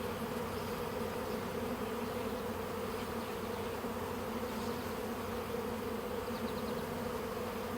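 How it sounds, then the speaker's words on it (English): Dense, steady buzzing of many honey bees around beehives, a continuous loud hum with no talking. "The bees seem to be in a pretty good mood today."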